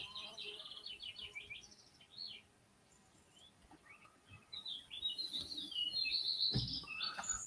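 Faint birds chirp and tweet outdoors in scattered bursts over a low background murmur.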